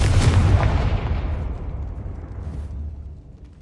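A Confringo spell explosion in the Hogwarts Legacy video game: one loud, broad fiery blast that hits at once, then rumbles and crackles as it fades over a few seconds, with no talk.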